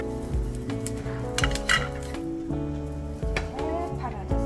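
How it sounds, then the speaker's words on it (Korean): Salted, drained julienned cucumber strips stir-fried in a pan, with clinks and scrapes of utensils against the pan over a soft sizzle and background music. "소금물에 절였다 물기를 빼준 오이채를 볶습니다."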